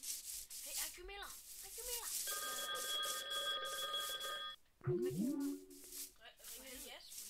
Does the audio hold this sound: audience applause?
no